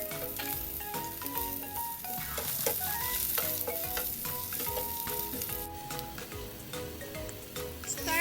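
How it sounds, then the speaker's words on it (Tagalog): Beef sizzles and crackles in a hot pan with onion and ginger while a utensil scrapes and stirs it in brisk, irregular strokes. The frying is close and continuous, with no talking. "Start to stir fry the beef."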